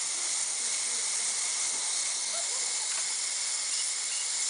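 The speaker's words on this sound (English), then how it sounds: "Your steam is going over the top of your turbo." Steady high hiss of steam escaping from a homemade steam engine's turbine, loud and continuous without a break, with no voices over it.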